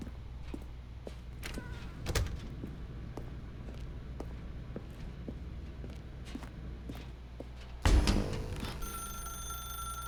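In The Stanley Parable: Ultra Deluxe, soft footsteps tap along before a telephone suddenly starts ringing near the end, a steady electronic ring that continues to the close.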